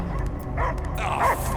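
A dog in the Guardians of the Galaxy video game gives short yipping barks and a whimper over a steady low game rumble, moderately close.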